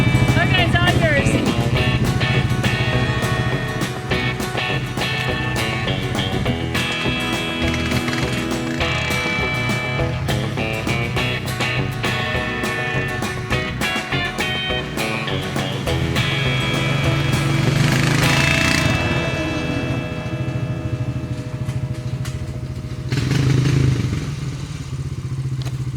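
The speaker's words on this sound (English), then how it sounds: "that four-wheeler was a lot of fun" ATV four-wheeler engine running steadily in a forest setting, a continuous low drone with rising and falling revs and mechanical clatter, loud and close throughout.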